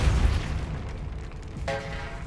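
A Depulso force spell blast in the Hogwarts Legacy video game erupts as a loud, low boom at the start, rumbling off through a dark tomb ambience, followed by a brief bright magical chime near the end.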